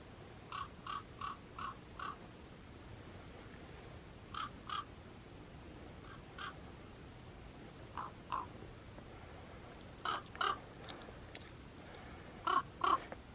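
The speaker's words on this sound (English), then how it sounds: "Evil Mr. Crow." A crow caws outdoors on a winter hike between Penrith and Windermere: short harsh calls in pairs and small bursts, spread across the clip, fairly faint and distant over a quiet background.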